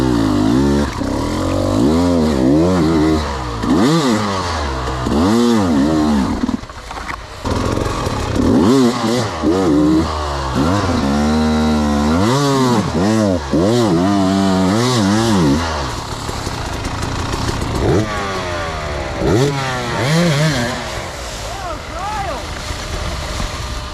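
Hard enduro dirt bike on an off-road trail at Blue Holler OHV, its engine revving hard in second gear with repeated rising and falling surges, loud and close throughout.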